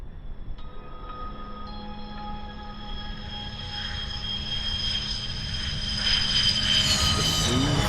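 Jet fighter engine roar of a Su-37 in the Ace Combat 7 game, a steady broadband rush with whining tones that swells louder toward the end as it closes in.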